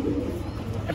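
Soft, low cooing from a domestic breeder pigeon, a male kept paired with a female, murmuring steadily through the moment with a muffled indoor quality and no talk.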